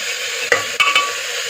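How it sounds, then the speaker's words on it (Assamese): A spoon stirs boiled chicken in a pot with water on a steady sizzling bed, giving a couple of sharp scraping clinks near the middle, close and clear, with no talk. "তাৰে মই অলপ লৰাই লওঁ।"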